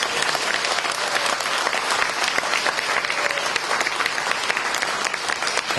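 An audience at a 2019 book launch at the Press Center in Gwanghwamun, Seoul, claps in dense, sustained applause filling a hall, steady and fairly loud throughout with no pauses.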